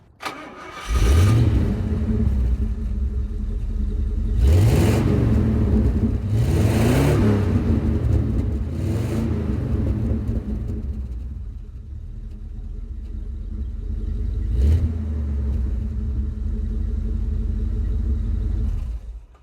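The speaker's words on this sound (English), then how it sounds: "This engine sounds brilliant." A 1970s Bentley T2 (Silver Shadow II) engine cranks, catches and revs hard several times, roaring up and falling back to a deep idle rumble, loud and close.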